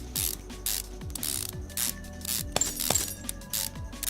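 Repeated ratcheting clicks as a ratchet spins bolts out in Car Mechanic Simulator, quick mechanical pawl rattles in steady short bursts, close and clear over a soft background tone.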